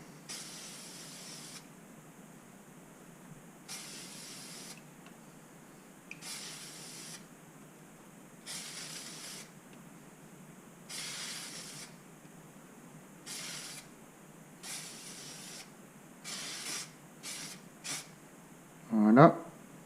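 Filter oil is sprayed onto a Pipercross air filter in repeated short hissing bursts of aerosol spray with pauses between them, close up, and a brief clatter at the end.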